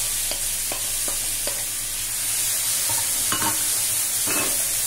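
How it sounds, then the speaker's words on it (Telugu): Onions sizzling in a pan while being fried for a drumstick egg curry, with a steady low frying hiss and a few soft stirring scrapes of a spoon, close and fairly quiet. "ఇట్లా ఉల్లిపాయలు వేగనివ్వండి"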